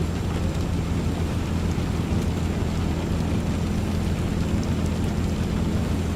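Heavy rain in the video game Euro Truck Simulator 2 pours in a constant, even hiss over a low steady rumble, with no voices present.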